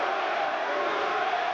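Dense, steady roar of an arena crowd at the Lennox Lewis vs Evander Holyfield heavyweight boxing rematch, continuous and loud with no breaks, voices blended into a broad wash.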